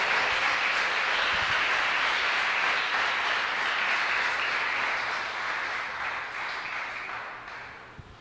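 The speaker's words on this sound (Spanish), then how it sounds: "Dale fuerte el aplauso a Dios." A church congregation claps during a Spanish-language service, a broad, sustained wash of applause that fades slightly toward the end.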